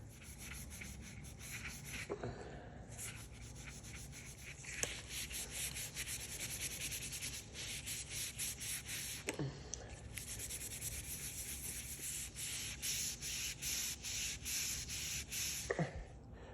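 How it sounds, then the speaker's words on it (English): Carbon is scrubbed off old engine pistons from an LS1 rebuild with steady, close rasping strokes, continuous and fairly quiet, broken by a few brief pauses and clinks. "remove most of the carbon off the face of the piston and as well as the skirts, the ring area"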